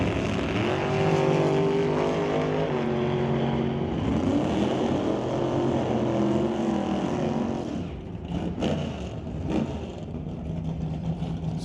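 Drag race launch of a 1967 Nova against a dragster: loud, sustained engine roar with shifting harmonics, surging and dipping near the end, heard close with no talk.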